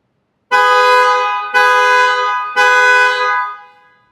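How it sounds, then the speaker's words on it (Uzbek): A Soueast S09 car's factory alarm sounds its horn in three loud, close blasts of about a second each, evenly spaced, with silence before the first blast and a fading tail after the last. "Aynan Southwest S19 modellarimizning barcha komplektatsiyasida zavodskoy signalizatsiyasi ham mavjud"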